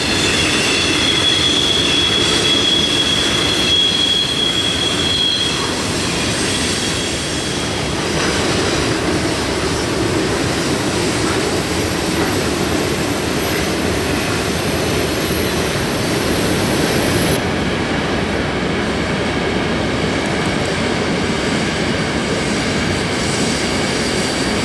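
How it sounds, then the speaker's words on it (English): CSX manifest freight Q453 with two locomotives and Florida Rock hoppers rolls through Ocala, Florida, a loud continuous rumble of wagons and clattering wheels with squealing flanges, close and sustained throughout. "Q453, our hometown train, was making an appearance through town"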